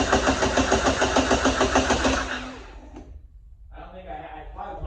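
A 1987 Dodge Daytona Shelby Z, its engine coming back after sitting for almost a year, gives a loud rhythmic cranking chug for about two seconds, then dies away to a quieter mechanical hum, with voices nearby.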